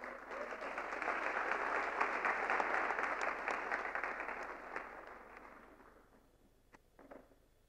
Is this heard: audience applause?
yes